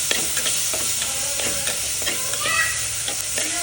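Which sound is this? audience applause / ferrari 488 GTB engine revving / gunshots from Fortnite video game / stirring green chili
stirring green chili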